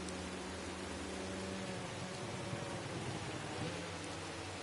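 Rain pours steadily in a MotoGP racing video game during a race at Sepang, a dense, even hiss with low rumbling underneath that fills the whole stretch with no talk.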